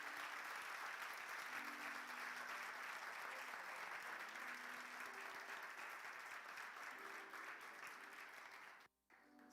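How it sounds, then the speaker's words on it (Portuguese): A church congregation applauds during a worship service. Sustained, even clapping from many people fills the room at a distance and at low level, then cuts off abruptly near the end. "Queria que você aplaudisse a Deus pela vida dela."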